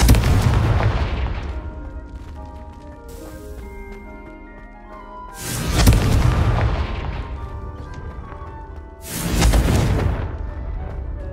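Fire blast spell explosions in the Hogwarts Legacy video game: three loud booming bursts, each with a long rumbling decay, spaced several seconds apart over a musical background.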